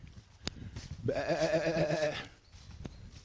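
A single sheep lets out one clear, wavering bleat lasting about a second. It sounds close, with a couple of sharp clicks and light farmyard noise around it.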